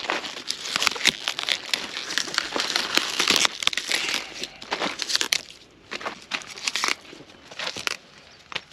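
An overripe broccoli head is cut off in a garden vegetable bed, with close, crisp crackling and snapping of stalk and leaves in uneven bursts and short pauses.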